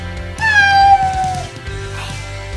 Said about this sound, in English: What you crying about, cat?